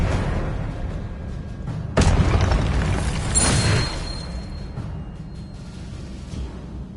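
Spells in the Hogwarts Legacy video game burst and boom, with a heavy low thud at about two seconds, a bright crackling blast soon after, and rumbling decay that fades away.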